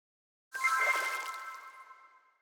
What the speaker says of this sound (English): Here's water healing. Let's hear what that sounds like.